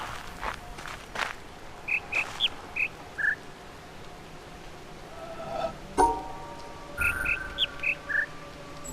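Two bursts of short tonal bird chirps ring out in The Witness, each a quick run of four or five pitched tweets at different heights, clear over footsteps on rocks and soft ambience.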